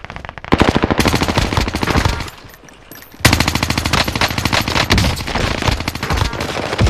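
Rapid automatic gunfire from a weapon in Warzone, loud and close, rattling in long dense bursts with a short pause in the middle before the firing resumes just as hard.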